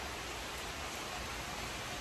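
Rain falls steadily outside beside a front porch after garden flower beds were weeded, a dense, even hiss that holds constant throughout with no voices.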